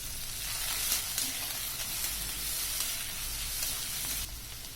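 Chopped onion frying in hot oil with fennel seeds for a cabbage and egg poriyal, a steady close crackling sizzle with light stirring throughout, easing slightly toward the end.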